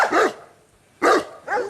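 Dogs bark behind a gate in three sharp, close barks, two quick ones a second apart and a third shortly after, with brief silence between.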